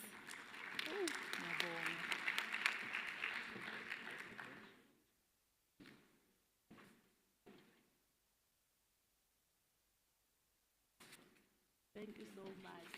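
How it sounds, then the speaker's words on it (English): An audience at a basic education sector lekgotla claps for several seconds before the applause fades out, followed by a few scattered knocks and clicks in a quiet hall. "Let's give her a round of applause."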